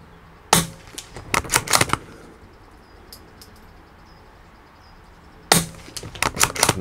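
Two close bursts of rapid gunfire from a Rossi 8122 .22 LR rifle, each a quick string of sharp, loud cracks, separated by a few seconds of quiet.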